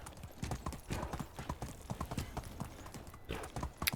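Horse hooves clip-clop in steady, close, fairly loud rhythm while riding in the medieval survival game Medieval Dynasty, with no speech over the footfalls.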